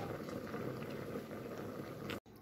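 Spine gourd curry made with milk boiling in a covered pot, a steady low bubbling and simmering close by, broken by a brief dropout near the end.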